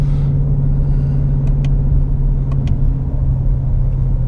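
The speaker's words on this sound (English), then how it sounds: "Now I do have the exhaust mode in sport currently." A 2017 Ford Mustang GT350 runs with its exhaust set to sport mode, a loud, close, steady deep rumble that holds constant with no talking.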